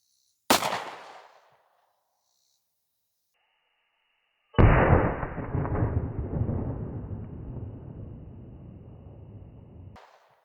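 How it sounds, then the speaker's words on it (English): A Glock 43X 9mm pistol fires a single Speer Gold Dot 124gr +P round into gel: one sharp, loud crack that fades quickly, followed after a pause by a long, broad rushing noise that slowly dies away. "We'll start by taking a shot with our 43X."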